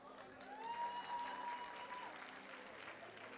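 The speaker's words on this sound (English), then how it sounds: "I want to give you guys a round of applause." An audience at the Mr. and Ms. International 2014 student event gives a round of applause, a continuous, evenly textured wash of many hands clapping that holds steady throughout, heard from a distance at low volume.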